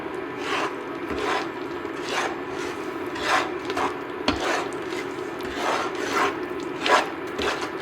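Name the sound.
stirring sugar into karo syrup in a pot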